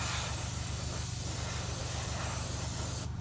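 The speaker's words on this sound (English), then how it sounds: "I'm just going to go over it again now with the just air, just to dry any of these spots" An airbrush blows plain air over a matte-painted Ogryn bust with ink glazes to dry wet spots, a steady close hiss that runs alone through the clip and cuts off abruptly near the end.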